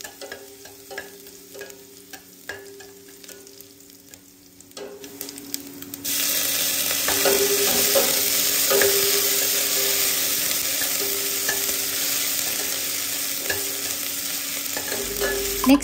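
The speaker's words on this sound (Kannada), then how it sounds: "ಶುಂಠಿ ಹಾಕ್ಕೊಂಡು ಒಂದು ಸ್ವಲ್ಪ ಫ್ರೈ ಮಾಡ್ಕೊಳ್ತೀನಿ" Mustard seeds, garlic and ginger fry in a pan, first quiet stirring and light clinks, then a loud steady sizzle that swells and holds, with occasional scraping of the spoon against the pan.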